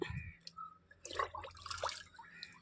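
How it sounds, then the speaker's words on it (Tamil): Water from a jug splashes and trickles onto a jasmine plant in a garden, a faint, brief patter of pouring and dripping with no talking. "ஃபஸ்ட்டு முல்லைப்பூவுக்கு ஒரு ஜக்கு தண்ணி ஊற்றிட்டேன்"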